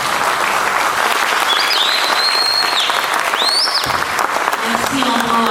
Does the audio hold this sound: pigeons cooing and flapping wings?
no